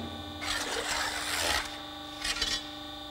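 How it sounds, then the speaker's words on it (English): A Boschert notching machine cuts sheet metal of three different thicknesses, with no die clearance adjustment between them. Close by, a harsh broadband rasp lasts about a second, then stops, and a shorter second burst follows. "one sees the notching of three different sheet thicknesses without die clearance adjustment"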